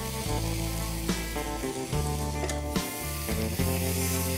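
Ketchup, red chili sauce, chili flakes and dried mixed herbs sizzle in a frying pan as they're stirred, a steady soft hiss with occasional utensil scrapes over a constant tonal background.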